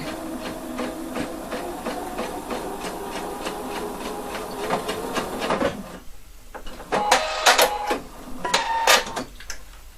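A sewing machine stitching the corner of a jacket, a rapid mechanical rattle of needle strokes running continuously for several seconds, then brief stop-start bursts near the end, close and fairly loud with no talking.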